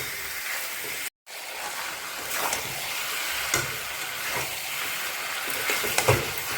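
Mutton slowly sautéed and stirred in a pan, a steady broadband sizzle and hiss throughout, with occasional scraping knocks of the spatula; brief dropout near the start, no talk.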